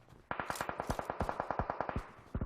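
Rapid automatic gunfire in the mobile battle royale game PUBG Mobile on the Vikendi map: a burst of about twenty evenly spaced close shots, then a short pause and a few more quick rounds, fairly quiet overall.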